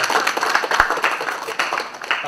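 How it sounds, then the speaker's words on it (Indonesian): Audience members at a financial education event in Balikpapan clap for a speaker, producing uneven overlapping claps with a few sharper individual slaps standing out. "Jadi kita tepuk tangan untuk"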